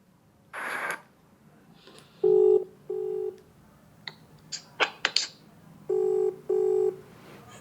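A recorded phone call: a short burst of noise, then a series of evenly spaced dialing and ringing tones in pairs, interspersed with brief clicks and blips.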